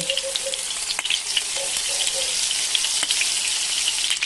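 Round skewers of minced pork marinated in fresh milk sizzle over a low fire as they are turned and brushed with coconut milk. A dense, steady crackle carries throughout, with occasional sharper pops and light clicks.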